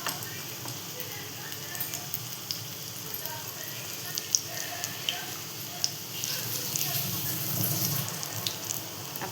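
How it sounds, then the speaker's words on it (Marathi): Bread slices coated in besan batter fry in a pan, making a soft, continuous sizzle with scattered small crackles and pops, and a voice speaks over it. "आपल्याला इथे फ्राय करून घ्यायचं याला."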